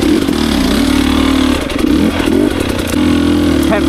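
An enduro dirt bike engine on a hard enduro trail ride revs loudly and close, with a dip around the middle and uneven throttle blips throughout.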